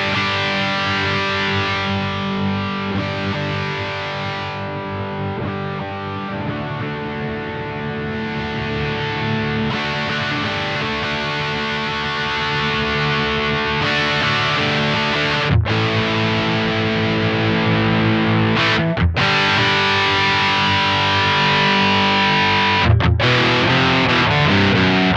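An electric guitar played through a JHS AT+ overdrive pedal with its Air control being adjusted, giving loud, sustained distorted chords that ring out with brief pauses between them.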